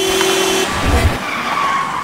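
A car skids with a brief tire screech and a short low thud of impact on a road, loud and close, with no talk over it.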